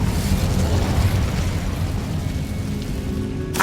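An Incendio fire spell is cast in Hogwarts Legacy, giving a loud, steady rushing roar of flame that stays at constant strength throughout, ending with a brief bright crackle at the close.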